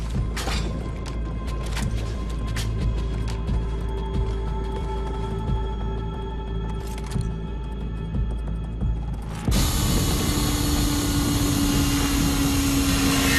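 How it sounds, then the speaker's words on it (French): A drill bores through a hydraulic seal in Call of Duty: Ghosts, a loud steady mechanical whine with a low rumble. It cuts abruptly into a harsher, denser grinding roar near the end, with no talk. "Il faut percer le joint hydraulique"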